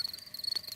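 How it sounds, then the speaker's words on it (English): A thin, high insect chirping pulses repeatedly against a quiet background, faint and steady with no talking. "That is the sound of crickets chirping."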